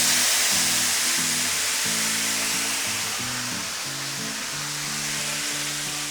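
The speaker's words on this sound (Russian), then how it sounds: "Жарить нужно со всех сторон на максимальном огне до золотистого цвета." Quail frying over maximum heat in a pan, with cognac added, giving a steady broadband sizzle that fades slightly over time, accompanied by low, intermittent rhythmic tones.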